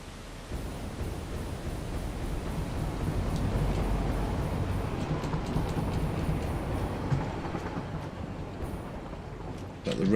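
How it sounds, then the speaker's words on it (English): A train runs along the track in the video game Satisfactory, giving a broad, steady rumble and hiss with faint clicks over about ten seconds. "Got the red train. Yes, the red train."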